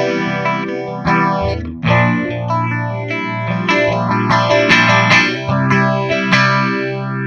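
Electric guitar chords played through an Electro-Harmonix Small Stone Nano phaser pedal, the tone sweeping up and down in a steady, repeating whoosh as the chords ring out, loud and close with no talking.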